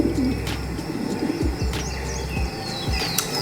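Several layered pigeons coo repeatedly over a park ambience, with soft chirps and a busy background hum running steadily throughout.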